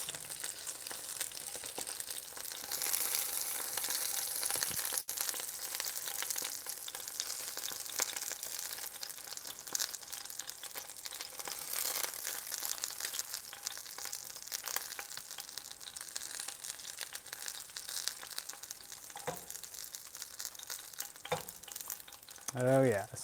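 Tofu pan-fries in oil alongside shishito peppers for agedashi tofu, a quiet, continuous close sizzle with soft crackles and occasional stirring, and a brief voice at the very end.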